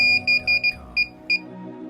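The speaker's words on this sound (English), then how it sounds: "Press and hold the remote controller power button for 5 seconds until the battery LED blinks in sequence and there's a beeping noise." A DJI FPV remote controller gives off a series of short, high electronic beeps, a quick run of five followed by two more spaced ones, crisp and close against a faint background hum.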